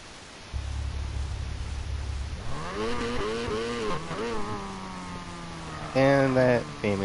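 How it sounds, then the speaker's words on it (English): A Mazda rotary engine in the video game Need for Speed Payback idles quietly, then revs up in rising, buzzy surges with brief dips between pulls and a louder final blip near the end. "And that famous rotary sound."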